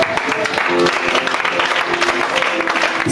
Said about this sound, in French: Ok, tu acclames.